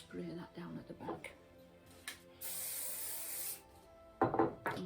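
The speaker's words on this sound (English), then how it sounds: "I'm going to give it a brush so it just holds that all in place." A brush is drawn through vintage-style curled hair, giving soft scratchy rubbing strokes, close but quiet, between short bits of someone talking and after a brief hiss.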